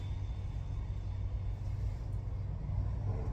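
A truck engine rumbles low and steady as heard from inside the truck, a constant deep drone with no talk.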